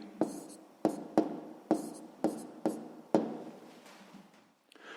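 Pen writing numbers on paper during a sixth-grade proportion exercise: a sequence of seven or so distinct scratchy strokes, each a quick attack fading out, close and fairly quiet.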